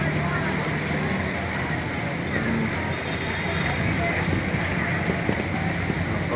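Steady rain pouring during Typhoon Carina flooding in Manila, a dense even hiss with wind, a voice speaking over it.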